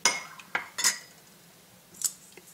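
A spoon clinks against a bowl while mixing milk and vanilla essence, a few sparse metallic taps and scrapes spread over a quiet background.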